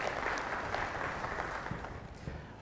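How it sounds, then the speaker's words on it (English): An audience at a business event claps together in steady, moderately distant applause that tapers slightly toward the end. "Please give a round of applause to ET Now for putting such a great setup here."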